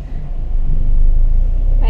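Renault Clio 1.6 16V engine heard from inside the cabin while driving, a steady low rumble with road noise throughout, fairly loud and muffled by the insulated interior.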